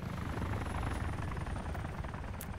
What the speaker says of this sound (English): Helicopter above, everybody's looking up.